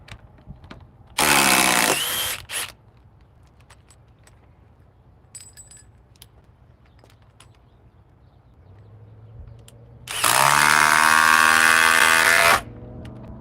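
A DeWalt cordless impact wrench on an XR battery fires in two loud bursts, a short hammering rattle near the start and a longer one near the end, with quiet handling clicks between.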